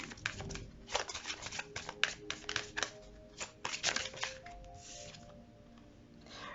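Tarot cards being shuffled and drawn, a run of crisp riffling flicks and papery slaps at close range, thinning to a soft rustle at the end.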